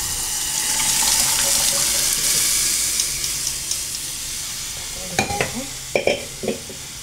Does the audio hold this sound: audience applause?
no